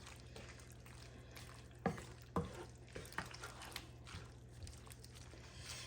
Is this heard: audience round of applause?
no